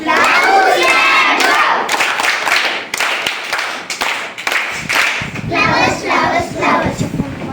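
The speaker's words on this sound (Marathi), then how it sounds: "सार्थकसाठी सगळ्यांनी टाळ्या वाजवायचा आहे" Children in a primary school classroom clap and cheer loudly together, with a burst of excited shouting and uneven applause that rises and falls in waves.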